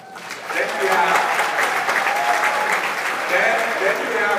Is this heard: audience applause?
yes